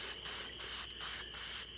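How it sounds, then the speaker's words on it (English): Spray coating, a very sticky glue-like compound that does not harden, is applied to brake parts on a 2004 Dodge Ram 1500 during a pad and rotor job: five hissing spray bursts with short gaps, close and fairly loud. "you come along and you spray it on, just like paint"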